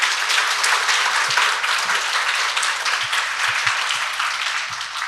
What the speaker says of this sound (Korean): 이 3분 모두께 환영의 박수 한번 부탁드리겠습니다